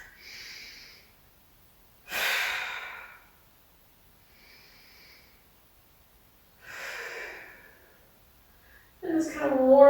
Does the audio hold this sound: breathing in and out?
yes